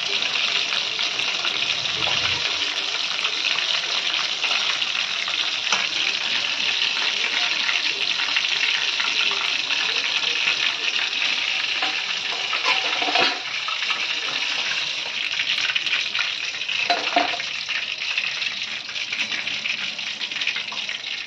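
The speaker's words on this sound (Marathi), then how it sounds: "राहिलेले लॉलीपॉप पण मी सर्व तळून घेते" Chicken lollipops deep-frying in hot oil give a steady, loud broadband sizzle and bubbling that runs without a break, with brief heavier bursts now and then.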